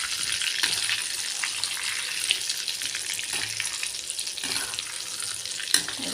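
Marinated prawns frying in hot oil for crispy fried prawns, a continuous bright crackling sizzle held at an even level, close, with one small click near the end and no talking.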